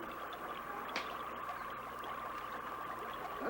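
A liquid bubbles and gurgles softly at close range, a faint continuous trickling with a few small pops and splashes and no voices.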